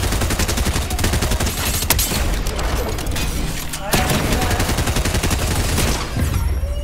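Rapid gunfire from Fortnite no-build battle royale gameplay, dense bursts of shots and automatic fire running nearly continuously and loud, with a voice speaking excitedly over it.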